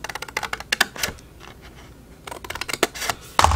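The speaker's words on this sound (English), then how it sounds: "I'm just going to cut away that little 3-inch score mark that I made" Scissors snipping through craft paper along a 3-inch score mark for a 6-inch mini journal, a close run of sharp crisp cuts, pausing briefly mid-way before another quick burst of snips.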